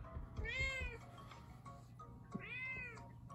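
A cat in the Dr. Panda's Pet World video game gives two clear, tonal meows about two seconds apart, close and fairly quiet over a soft background.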